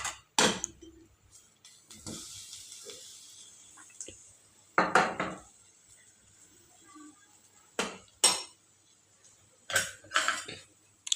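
Boiled potatoes being tipped into a pan for bread pakoda filling and stirred, with scattered spoon clinks and scrapes against the metal pan, close and intermittent with quiet gaps between them.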